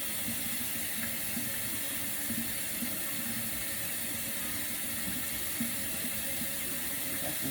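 Water runs steadily from a faucet while shampoo is rinsed out of a girl's mixed-texture hair after a sulfate-free wash, a continuous, even splashing hiss that never pauses.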